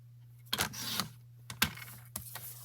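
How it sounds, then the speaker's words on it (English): Card stock being trimmed to size on a paper trimmer, three or four sharp sliding cuts and clicks, close and distinct over a low steady hum. "I got to trim this one to 3 3/4"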